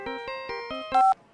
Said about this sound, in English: I don't like the sound of this ringtone right now.